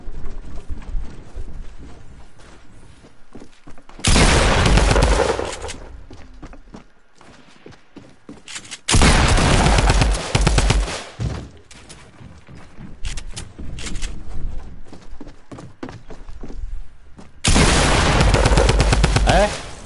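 Heavy video game gunfire in three loud, sustained bursts of rapid shots, with quieter game noise and faint scattered sounds between them.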